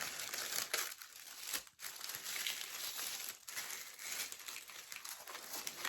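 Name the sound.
tissue paper crinkling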